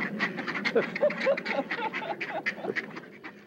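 A group of ducks quacks continuously nearby, overlapping calls in a steady chattering stream at moderate volume.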